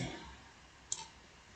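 A single soft, sharp computer mouse click, heard once against a quiet background hiss during an online computing lesson.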